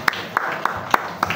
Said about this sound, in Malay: Ya, bagi tepukan.